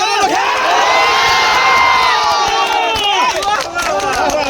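A large crowd at a street protest in Patna cheers and shouts loudly, with whistles and roaring voices blending into a sustained, energetic din.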